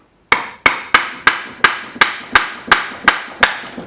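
A big screwdriver is hammered to pop the glass head off a Briggs engine, heard as about ten sharp metallic blows in a steady, even rhythm, close and loud, each ringing briefly before the next.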